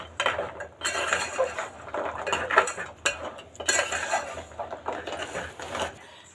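A spoon stirs jaggery syrup in a cooking pot for wheat-flour jaggery gavvalu, clinking and scraping against the metal in irregular bursts, close and moderately loud.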